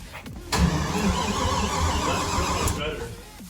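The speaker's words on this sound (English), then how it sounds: "gonna see if it'll start up now, or just at least bump it to turn it over" A Trans Am engine, just swapped in, cranks and fires up for the first time, a steady loud mechanical roar holding for about two seconds before cutting off, with brief voices around it.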